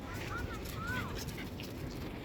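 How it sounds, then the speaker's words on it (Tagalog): Several dogs of different breeds at a new public dog park in TKO give faint whimpers and yips amid steady outdoor background noise, while people talk nearby. "At ibang lahi guys, ng aso dito."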